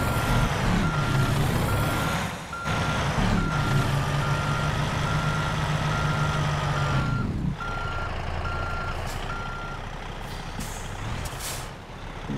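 A heavy truck in American Truck Simulator backs up, its reversing alarm beeping in a steady repeating rhythm over a low diesel idle, with hissing air-brake releases breaking in between.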